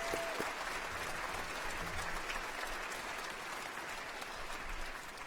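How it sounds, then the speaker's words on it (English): Steady, fairly distant applause from a university convocation audience honoring graduates' parents, guardians and families, a continuous even patter of many hands with no voices over it. "how about a massive round of applause for our parents, guardians, loved ones, and family members"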